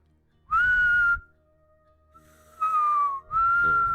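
A person whistles with the mouth to imitate a repeated eerie whistling heard at night, giving three clear close tones, the first steady, then a falling one and a final held note.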